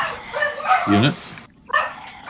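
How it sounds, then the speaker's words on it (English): Dogs bark excitedly in a room, a run of loud yips and woofs layered over someone talking, with a short lull before another burst. "dogs are losing it"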